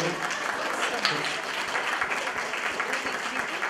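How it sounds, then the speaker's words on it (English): Audience applause welcoming newcomers at a live event, a dense, steady wash of clapping from a roomful of people that holds at an even level throughout, with a few voices mixed in. "please stand up and enjoy a warm welcome, a warm round of applause"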